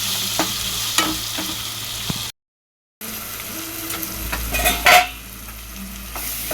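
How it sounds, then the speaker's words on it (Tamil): Tomatoes sauté in a pan for chicken salna, giving a steady sizzle with scraping stir strokes and a louder clatter of a spoon against the pan near the end, broken by a short silent gap. "தக்காளி போட்டுக்கலாம். வதங்கும். இதை நல்லா வதக்கிக்கலாம்."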